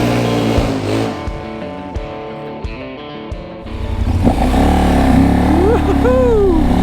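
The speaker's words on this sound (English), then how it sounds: "Let's hop back on and get rolling, and I'll show you why I still have this dang bike" A KTM 1190 motorcycle pulls away and accelerates, its engine note climbing loud and close with rising and falling revs through gear changes, while wind rushes past and a voice is heard.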